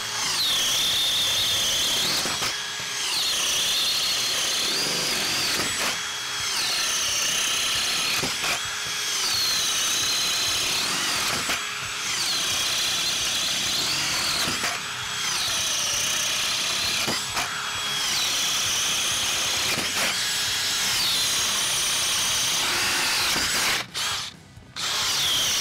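A DeWalt Atomic cordless drill bores through wood with a paddle bit, its motor whining loudly and steadily, broken by brief pauses and pitch shifts as it bites.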